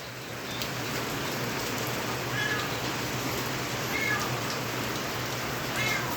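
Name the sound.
cats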